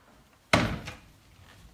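A kitchen cabinet door in a tiny home shuts with a single close, solid wooden thunk that fades briefly. A faint second knock follows at the very end, with no talk.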